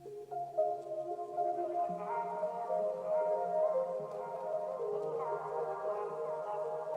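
Beat bridge with ambient synth loops and sustained tonal pads leading into the outro, a soft, steady, layered texture playing at moderate level without drums standing out.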